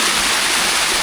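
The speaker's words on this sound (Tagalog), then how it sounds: "Gumagasa yung tubig dito." Water rushing loudly and continuously at a nature spring resort, a dense close-up roar and gurgle filling the whole moment with no voices.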